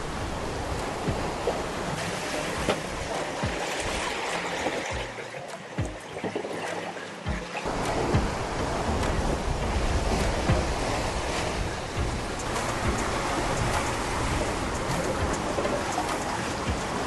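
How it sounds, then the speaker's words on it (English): Big ocean waves, around 4 to 5 meters tall, rush and surge steadily at sea during a nighttime transatlantic crossing, with broad roaring wash and wind noise filling the whole stretch. "The waves tonight are about 4 to 5 meters tall,"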